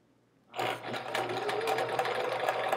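A sewing machine starts up after a short silence and stitches steadily across a row of chevron quilt pieces, a close, fast, even whirring rattle that continues without any talking.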